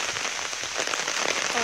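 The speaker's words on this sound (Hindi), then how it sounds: "इतना ऐसा बारिश आ रहा है अभी" Heavy monsoon rain pouring down, a dense, steady hiss of drops hitting surfaces close by, with no voices over it.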